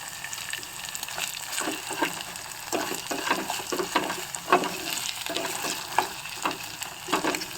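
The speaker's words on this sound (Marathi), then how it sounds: "आता आपण यामध्ये खोबरं, लसूण आणि आलंचं वाटण टाकत आहोत." A paste of coconut, garlic and ginger sizzling in a pan for misal, a steady frying hiss broken by repeated scraping stirs of a spoon, close and moderately loud.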